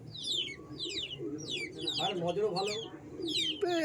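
Pigeons at a Bengali home loft where the birds are flown coo and chirp in repeated bursts nearby, with a voice talking over them.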